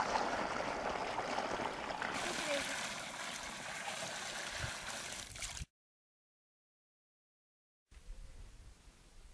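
Water poured onto cow dung laid over a plastic sheet with stones and soil, preparing an azolla bed outdoors; a steady broadband rush of pouring and trickling for several seconds, a brief silence, then a fainter return.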